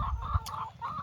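Backyard hens clucking in a pen, several short close clucks in quick succession with a brief sharper call in the middle, no talk.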